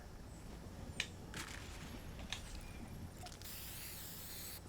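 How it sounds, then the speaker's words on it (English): Spray paint hissing in Fortnite as a peace sign is sprayed onto a structure, a few short bursts and then a longer sustained hiss, fairly quiet. "spray paint a peace sign on the structure"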